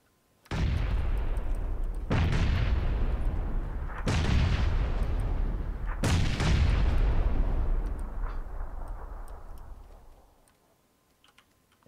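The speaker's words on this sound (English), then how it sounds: "Toss him just a bunch of grenades" Four heavy grenade explosions in PUBG go off about two seconds apart, each a loud booming blast with a long rumbling decay, and the last fades out slowly into near silence.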